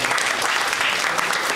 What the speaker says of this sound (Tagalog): Palakpak naman para kay God.